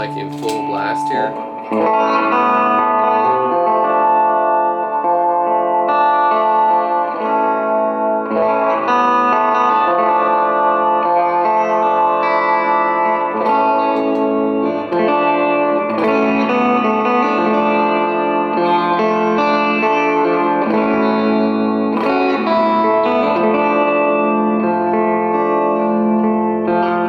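Electric guitar played through a Milkman amp turned up to full blast with its built-in spring-style reverb, sustained chords and notes ringing loud and continuous with a washy tail, no voices.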